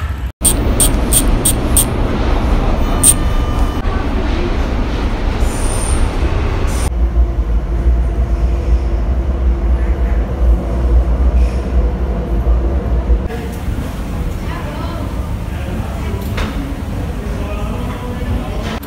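São Paulo metro train at Chácara Klabin station, heard up close as a loud, steady rumble with wheel squeal and rhythmic rail clatter, sharp high squeals near the start and voices talking over the noise.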